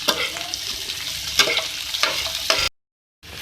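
Cabbage sizzles in a hot pan while being stirred, a steady close frying hiss broken by periodic scraping strokes, then a brief cut to silence before the sizzle returns.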